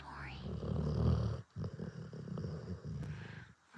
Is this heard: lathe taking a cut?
no